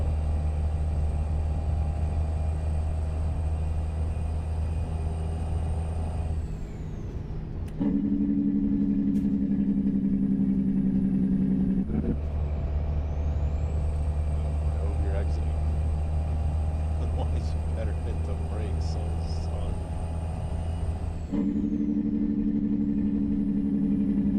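A steady truck engine in American Truck Simulator drones continuously, its pitch shifting between gears in a low, even rumble from inside the cab.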